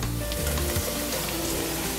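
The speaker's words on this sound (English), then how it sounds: "When you start to see the shallot sizzling and it's super fragrant" Shallots sizzle gently in a hot pan, a soft steady crackle with a few faint stirring sounds and no talking, before shiitake and cremini mushrooms are added.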